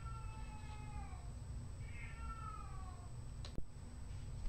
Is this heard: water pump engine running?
no